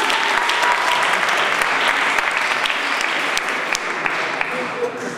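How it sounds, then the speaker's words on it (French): Dense audience applause at a French slam poetry event, loud and sustained, with individual sharp claps standing out and some voices mixed into the clapping. "On applaudit Sylvie."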